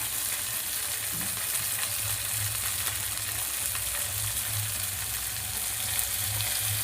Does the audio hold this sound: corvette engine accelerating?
no